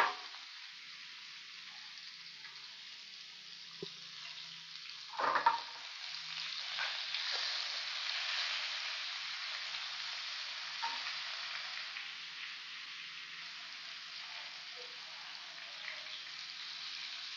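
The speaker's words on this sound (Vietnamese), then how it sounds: "Mình bỏ cái cuộn mình đã cuộn lên rồi nè. Đấy, mình chiên nó." Rolled spicy green beans sizzling in oil in a pan, a steady soft hiss with a brief louder crackle as a roll goes in, close and with no talking.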